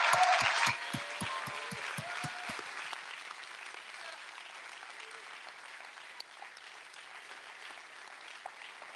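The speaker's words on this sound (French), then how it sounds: "je pense qu'on peut très fort les applaudir" A crowd applauds at a festival closing ceremony with a brief burst of clapping over a few rhythmic low thumps, then fades into a faint, sparse patter that trails off over several seconds.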